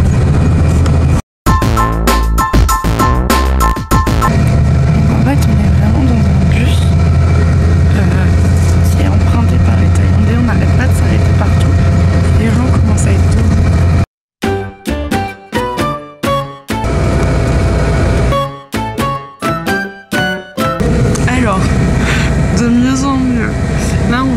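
Inside a second-class bus in Thailand on a five-hour trip, a loud steady engine drone and road rumble fill the cabin, with voices talking over it and brief sharp drops and choppy bursts in the noise.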